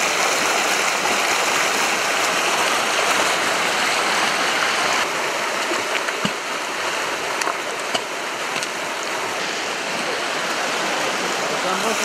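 Water streaming through a freshly dug river channel, a steady rushing flow heard close and fairly loud for the whole stretch, with a few small splashes and knocks along the way.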